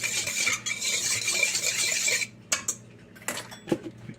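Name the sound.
stirring salt into pizza dough ingredients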